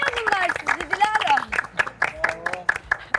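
A studio audience on a Turkish dating reality show gives scattered, light applause while voices talk over it, the claps loose and uneven rather than a full ovation.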